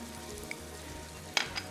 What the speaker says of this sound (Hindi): अच्छे से मसाले को जो है भूनना है।